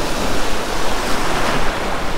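Wind and waves on a beach while surf fishing for pompano, a loud steady rush of surf and wind buffeting the microphone, continuous with no voices.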